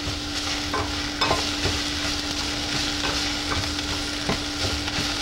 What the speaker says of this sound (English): And saute this